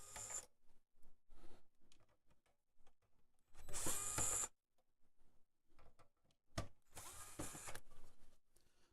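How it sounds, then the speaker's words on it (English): An electric auto screwdriver whirs in several short bursts as it backs screws out of old test equipment, with quiet handling clicks in the pauses between runs. "The auto screwdriver is allowing me, the thing Mahala sent in, I'm able to actually like push down on them."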